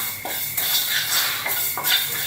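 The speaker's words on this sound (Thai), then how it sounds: "ค่อยๆคั่วไฟอ่อนนะคะ" Jasmine rice dry-roasting in a pan over low heat, with steady, close scraping and rattling strokes repeating about every second as the grains are stirred; no one speaks.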